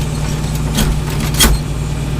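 A John Deere 4230 tractor engine drones loud and close as the driver shifts into third gear, with a couple of brief mechanical clunks over the steady running.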